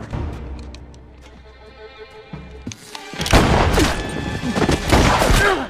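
Tense music with low tones gives way to a burst of loud gunfire, several sharp shots crackling in quick succession.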